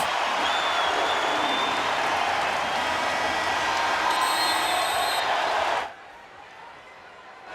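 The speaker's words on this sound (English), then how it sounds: "And this crowd, Jim, has come to life" A college wrestling arena crowd cheers and applauds loudly in a sustained roar late in the second period, with a commentator talking over it before the noise drops off abruptly near the end.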